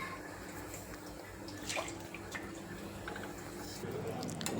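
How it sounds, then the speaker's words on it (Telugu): A few drops of water sprinkled onto a jowar roti on a hot griddle, giving a steady close hiss and sizzle with small spatters, fairly quiet and without speech. "కొన్ని డ్రాప్స్ ఆఫ్ వాటర్ వేసుకోవాలి"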